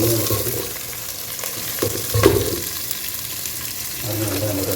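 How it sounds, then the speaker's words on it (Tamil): Onions frying in hot oil in a pan for a cabbage and potato sabzi make a close, continuous sizzle with a louder crackling surge midway and occasional clinks, and no one speaks. "இப்போ ஆயில் இது போடுறேன், வெங்காயம்."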